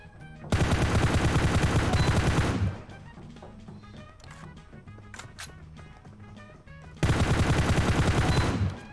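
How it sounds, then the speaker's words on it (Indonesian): Rapid automatic gunfire from a video game shooting practice room sounds in two loud, sustained bursts, one near the start and one near the end, with quieter clicks and game sounds between them. "oh, itu udah mulai tembak tuh"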